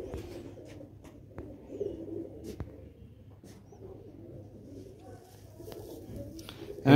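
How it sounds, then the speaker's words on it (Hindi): Sialkoti black-faced pigeons coo softly and repeatedly against a low background murmur. The cooing stays faint to moderate throughout, with a brief louder knock at the very end. "सियालकोटी काले मूंह वाले कबूतर"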